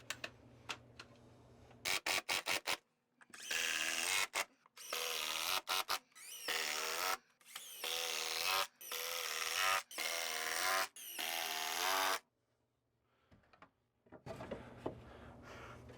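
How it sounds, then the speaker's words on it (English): A power drill drives screws into a flat 2x4 during a small bathroom remodel, with loud close whirring bursts of a few seconds each, separated by brief quiet gaps and light handling clicks. "just put a flat 2x4 in here and screw some screws into it to catch it"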